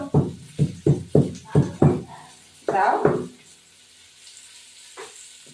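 Green chilies dropped into hot oil in a pan while cooking a rohu fish curry with cauliflower and potato, sounding as a series of short, crackling bursts followed by a louder hiss that fades into a soft, steady sizzle.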